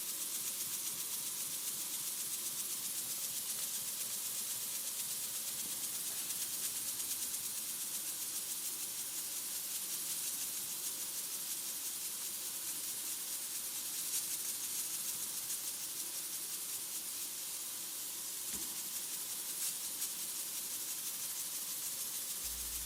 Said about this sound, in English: steam leaking out of the valve face because it's not run in yet